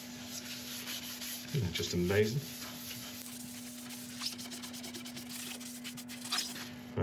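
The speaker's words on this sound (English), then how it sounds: "it a wipe over with some isopropyl alcohol" A cloth rubs isopropyl alcohol over a highly figured maple bowl turned from guitar stock, a steady soft wiping with a brief louder scrubbing burst early on, close by. Someone speaks briefly.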